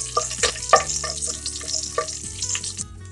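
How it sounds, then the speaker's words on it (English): Cumin seeds and spices sizzle and crackle in hot oil for jeera rice, with close, steady frying and scattered pops while they are stirred. "And we need to fry these spices."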